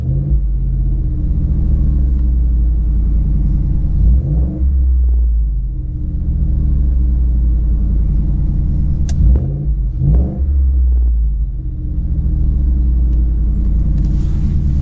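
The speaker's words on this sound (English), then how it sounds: "as soon as you step on the gas, it starts to wake back up" A Ford F-150 with an MBRP exhaust, heard from inside the cab with the windows up, revving a few times over a deep, loud idle rumble that rises and falls in short bursts.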